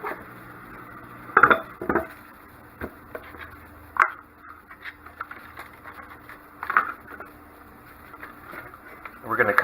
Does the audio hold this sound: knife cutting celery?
yes